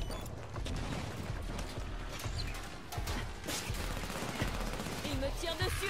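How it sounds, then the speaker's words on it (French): Rapid automatic turret fire in the video game Halo 5: Guardians, a dense, sustained barrage of gunshots and clanking mechanisms that runs loud and continuous throughout. "Il me tire dessus avec cette tourelle."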